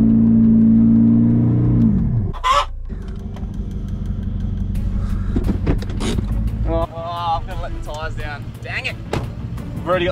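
A 4x4 engine drones steadily, straining and revving while reversing a caravan through soft sand, with a brief rising whine and bump early on; people talk over the continuous engine noise.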